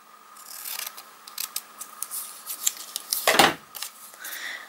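Scissors cutting a paper scrap for a craft project, a run of close crisp snips and rustles with one louder cut near the end.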